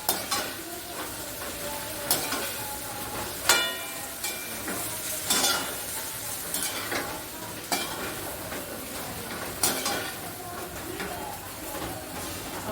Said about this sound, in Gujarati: હવે મુઠિયા નાખી દો સમારેલા. અને બરાબર હલાવી દો.